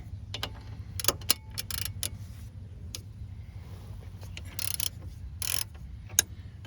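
Ratchet wrench working a bolt loose on the rear differential of a 2007 Cadillac SRX, with short bursts of clicking and metallic clatter spread over a low steady hum, close and fairly quiet.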